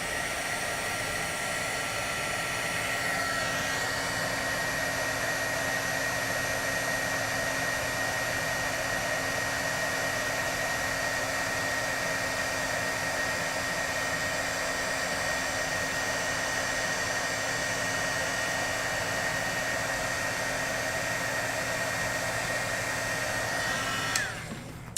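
A heat embossing tool blows hot air onto clear embossing powder on a stamped card, a continuous close whooshing hum with a steady tone that runs unbroken and stops abruptly at the end.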